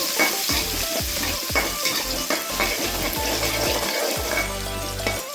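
Ginger, garlic and green chilies fry in a pan with a loud, dense sizzle, broken by repeated metallic clinks and scrapes from stirring, up close.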